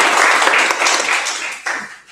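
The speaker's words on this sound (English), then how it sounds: "Round of applause for the" An audience at a candidates' question time claps for a candidate, a brief burst of scattered hand claps at moderate loudness that thins out after about two seconds.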